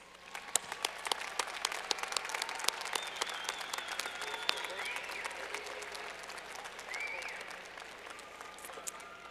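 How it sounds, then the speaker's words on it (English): A large arena crowd applauds at a university commencement ceremony, dense sustained clapping with sharp individual claps on top, some cheering and voices mixed in, steady throughout. "let's give them a big round of applause"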